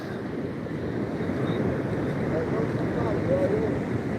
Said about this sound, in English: It looks like some pretty big surf.